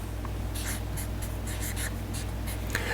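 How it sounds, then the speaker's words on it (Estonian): A marker or pen draws a map of Estonia during an e-learning lesson, with a run of short scratchy strokes, close and fairly quiet over a steady low hum, no talking. "ma joonistan siia Eesti"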